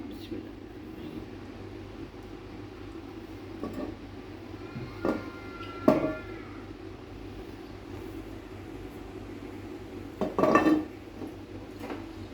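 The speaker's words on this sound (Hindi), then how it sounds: "सबसे पहले हमने पैन ले लिया है। पैन के अंदर हम थोड़ा सा ऑयल डालेंगे।" Cooking pan handled on a stovetop as oil is poured in, with a few sharp metallic clinks and scrapes over a low steady hum, and a voice talking throughout.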